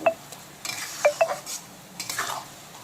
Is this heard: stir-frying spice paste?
yes